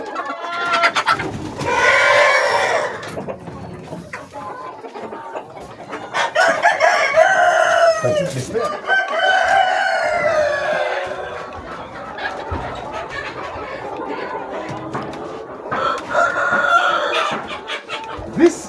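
Chickens cluck and roosters crow repeatedly, several birds close by, loud bursts of calling separated by quieter stretches of clucking.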